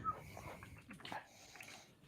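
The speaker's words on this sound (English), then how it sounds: "Oh, that's a pretty dog." A dog's breathing and soft snorts close by, a few quiet huffs and nasal puffs at an uneven pace, faint with a murmur of distant voices.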